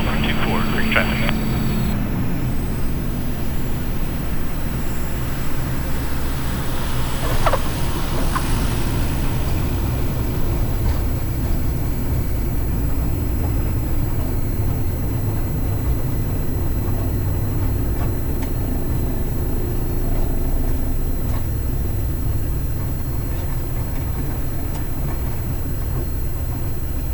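A Piper Lancer light aircraft on short final with full flaps, its engine recently rebuilt: a steady, loud propeller-engine drone fills the cabin throughout, with radio talk and voices over it.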